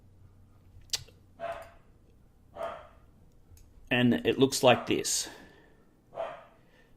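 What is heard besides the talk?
dog barking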